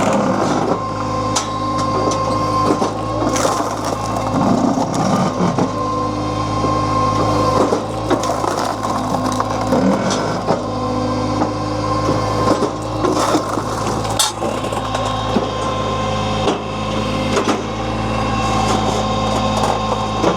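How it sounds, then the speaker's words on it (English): Fuelwood Splitta 400 firewood processor at work splitting firewood, a loud, continuous mechanical drone with hydraulic whine and intermittent cracks and knocks of wood being split, no voices. "We're gonna start making some firewood."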